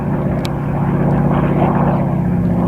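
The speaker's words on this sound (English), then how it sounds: "I'm above the level of that airplane, crop duster." Crop duster airplane flying toward Vail Airport, its propeller engine droning steadily and loudly throughout, close and continuous with no talk.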